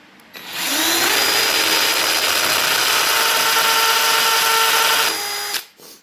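A big power drill whines loud and close in one continuous run of about five seconds, spinning up quickly, holding steady, then winding down.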